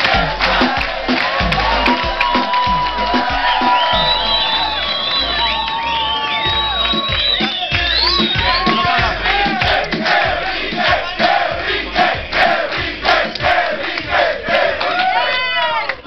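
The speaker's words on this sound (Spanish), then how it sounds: "Un aplauso para Sonia, que pase adelante." Audience at a Spanish-language television talk show cheering as a guest is called forward, a sustained crowd roar full of high whoops and shouts that stays loud throughout, with little distinct clapping.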